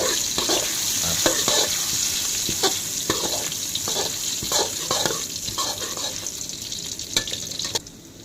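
Pounded chili and garlic sizzle and crackle in hot oil in a wok for a Thai pork stir-fry, a steady close frying hiss punctuated by repeated scraping stirs of a spatula.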